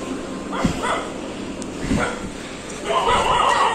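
A dog gives a few short, sharp barks and yips at intervals, close by, mixed with light background noise and some talk.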